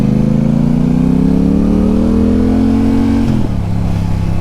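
A Yamaha R7 sport motorcycle engine revs loudly and close, its pitch climbing steadily for several seconds before dropping sharply as the throttle is released, then settling into a lower running note.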